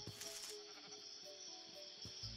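A sheep bleats in the video game Minecraft, a faint short bleat over a steady background hum, with no speech.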